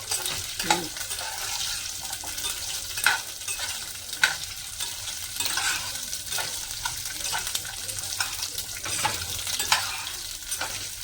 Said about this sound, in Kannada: ಚೆನ್ನಾಗಿ ಫ್ರೈ ಮಾಡ್ಕೋಬೇಕು ಎಣ್ಣೆಲಿ ಫ್ರೈ ಮಾಡ್ಕೋಬೇಕಲ್ಲಮ್ಮ ಫಸ್ಟ್